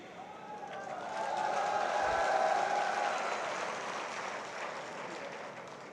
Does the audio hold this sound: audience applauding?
yes